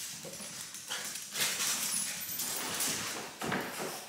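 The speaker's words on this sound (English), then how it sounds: "My dogs are exploring the place." Nearby rustling, shuffling and light scrabbling of dogs moving about an apartment room, with soft thumps; no speech.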